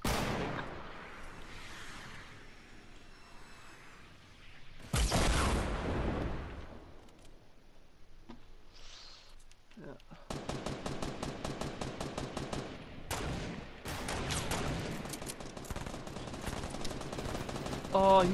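Gunfire in Fortnite Battle Royale: a loud shot burst early, then rapid repeated shots rattle in fast bursts through the second half, with players talking over parts of it.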